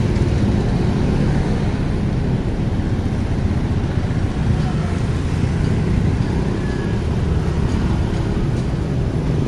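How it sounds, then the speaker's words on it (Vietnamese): Street traffic on sunny, tree-shaded Nguyen Trai road in Cho Lon produces a continuous dense rumble of engines, steady and fairly loud with no clear individual vehicles standing out. "Xe cộ trên đường"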